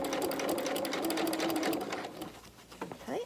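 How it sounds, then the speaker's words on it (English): A sewing machine stitches fabric for a boxed outdoor seating cushion, its needle running in a steady fast hum for over two seconds before slowing and stopping. "Then put your foot down and then you start stitching again."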